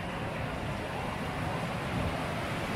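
Steady, close rush of Carter Falls, a waterfall on a river near old river-rock structures, forming continuous broadband noise with no breaks or voices over it.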